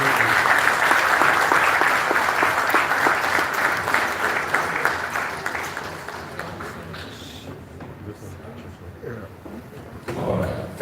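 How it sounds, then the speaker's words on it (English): Conference audience at the 9th SAIPEC 2025 applauding a speaker: loud, dense clapping that gradually thins and fades, then a voice begins speaking near the end. "I think he deserves another round of applause"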